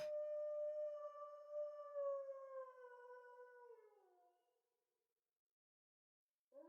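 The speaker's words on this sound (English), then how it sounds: "You can hear the dogs howling coming from all the way outside the mansion." Dogs howl from far outside a mansion in the visual novel game Tsukihime, one long sustained wavering howl that slowly falls in pitch and fades out, followed by silence and a brief new cry at the end.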